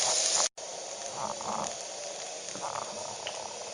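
Salty pork and onions frying in a pan over a camp stove in winter give off a steady close sizzle and hiss that runs throughout, broken by one brief dropout near the start.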